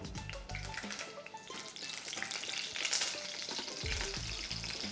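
Pandan leaf (rampe) dropping into hot oil with whole spices for a chicken salna, giving a steady close sizzle and crackle with some stirring and clinking throughout.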